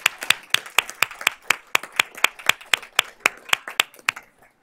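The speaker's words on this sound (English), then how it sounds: "let's give them a round of applause" Applause at a board of trustees meeting, a few people clapping in a steady, fairly even rhythm of sharp, close claps lasting several seconds before stopping.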